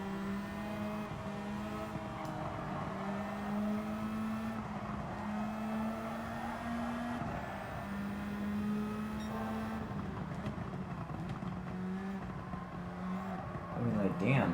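A 730-horsepower racing car engine in the Gran Turismo 7 video game, a steady high drone with shifting pitch held for the whole stretch, running loud and continuous with brief surges near the end.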